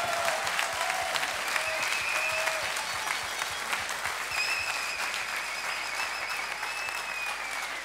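Sustained applause fills a Vendée Globe 2024 press conference for skipper Damien Seguin, a steady dense clatter of many hands with a few bright whistles rising over it.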